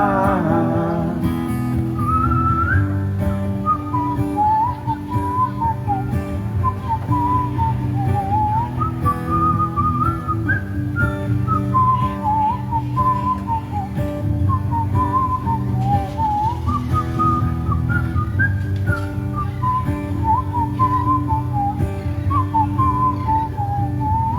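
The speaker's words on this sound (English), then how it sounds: "anybody know why the whistling is at the end?" A whistled melody winds along over a steady band and drums at the end of a song, carrying a relaxed tune from start to finish.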